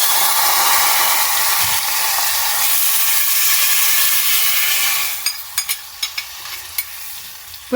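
Loud, steady sizzling of hot oil as vegetables hit the pan of tempering, a continuous frying hiss, then a few sharp clicks and taps near the end.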